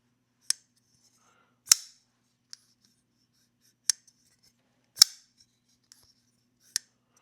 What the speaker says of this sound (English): Really good, like, click on the close. It's not loud, but it's like a good snicket.